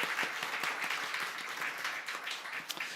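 A church congregation in Gunsan claps in encouragement during a Sunday service, a dense, steady burst of many hands applauding together for about three seconds, with no talk over it.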